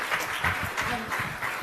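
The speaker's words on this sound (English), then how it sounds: "A big round of applause for the Minister." An audience at a global business summit in Germany applauds the Minister, a short burst of moderate clapping with a voice speaking over it.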